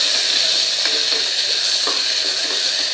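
A ground masala paste hitting hot oil in a pan, with cumin seeds already in, for a bottle gourd and chana dal curry. It gives a loud, dense, continuous sizzle with faint stirring taps underneath.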